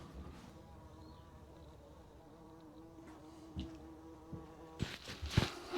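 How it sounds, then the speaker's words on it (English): A bumblebee buzzes inside a garage during a Honda CB500F motorcycle clutch replacement, a steady droning hum that persists throughout, joined near the end by louder clanks and knocks of workshop activity. "Sorry about the buzzing. We've got a bumblebee in here."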